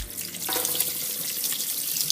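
Tap water pours steadily over lime-and-salt marinated tuna sitting in a strainer, a close, continuous rushing splash lasting a couple of seconds.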